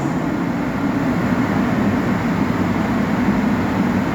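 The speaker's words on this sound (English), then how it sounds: "now boarding on track 2 is the 1131 eastbound Amtrak train number 2250 to" Amtrak train idling at Newark Penn Station, a steady low rumble with broadband rail noise holding evenly throughout, close and continuous with no voices.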